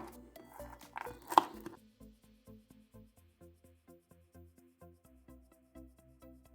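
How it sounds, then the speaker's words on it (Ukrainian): Quiet, steady rhythmic knife taps chopping nuts on a cutting board, with a brief louder clatter near the start. "Горішки я подрібную е, ножем, щоб відчувався смак"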